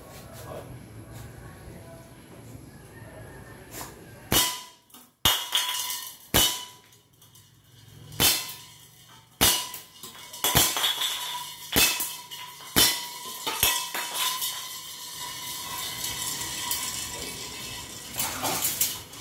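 An M4A1 airsoft rifle and a Desert Eagle airsoft pistol fire sharp, snapping single shots at irregular intervals, about a dozen pops over quiet background with some talking between them.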